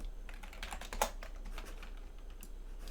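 Keys clack on a computer keyboard in a few quick, light taps with one sharper press in the middle, close by against a quiet background hum.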